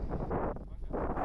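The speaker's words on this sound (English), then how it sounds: "It's super windy" Strong gusting wind buffeting the microphone at a cold mountain summit near Antigua, Guatemala, a loud rumbling roar that swells and dips over a brief moment.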